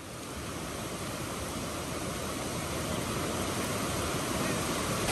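The Shiyu waterfall in Hualien, roughly thirty metres high and carrying plenty of water, makes a steady, even rush of falling water heard from a distance. The roar holds constant throughout and stays fairly quiet, with no talking.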